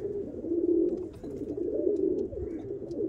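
Pigeons coo in low, throaty, rolling calls that repeat continuously at close range, with no one talking.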